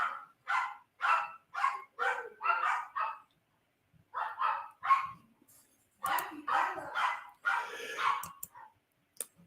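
A dog barks loudly and close in rapid bursts, several barks at a time with brief pauses between volleys, some sharper yips mixed in.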